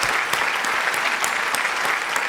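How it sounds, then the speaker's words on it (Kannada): Loud, steady applause from a large audience filling the space evenly, with sharp overlapping claps and no pauses, greeting eight musicians after a performance of background music for a Kannada stage program. "ಜೋರ ಚಪ್ಪಾಳೆ"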